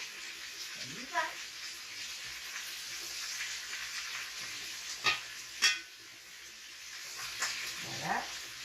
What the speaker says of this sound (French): je fais revenir ma viande